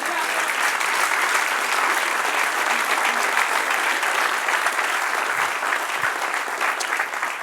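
A church congregation applauds during a Spanish-language service. Many hands clap in a thick, even wash that holds steady and fills the whole stretch, with no talk over it.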